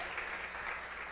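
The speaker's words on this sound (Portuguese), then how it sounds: "Você pode aplaudir o Senhor." A church congregation claps during a worship service, a short, even wash of many hands clapping together, fairly soft and steady, with nothing else standing out.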